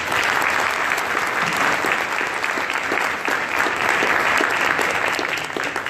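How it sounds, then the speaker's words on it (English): Dense applause from a crowd at a cryptocurrency event in London, a continuous wash of clapping at a loud, steady level with no talking. "give them a round of applause"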